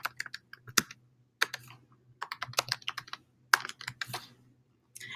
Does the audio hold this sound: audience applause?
no